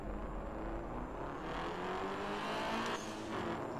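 Race car engine revving and pulling away at the start of a street race in the JDM racing game Night-Runners, a steady loud drone with a brief tire squeal near the end.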